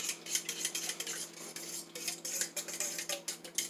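A fork scrapes and clinks against a bowl while mixing flour for blueberry muffins made without butter or whole egg, a steady run of quick close rhythmic scratching taps with no talk.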